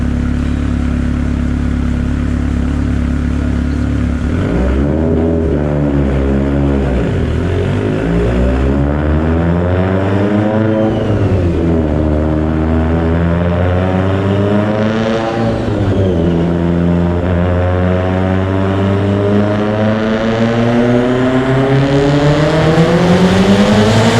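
Mitsubishi Evo X with an unsleeved block, Manley H-beam rods and Wiseco pistons, running 36 psi of boost, revs hard in repeated rising pulls, a loud continuous engine roar sweeping up and down in pitch.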